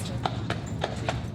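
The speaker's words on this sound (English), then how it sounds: "That's a Clydesdale." A Clydesdale horse's hooves clip-clop on a street in Savannah, Georgia, four evenly spaced hoof strikes against steady outdoor street noise and a low background murmur.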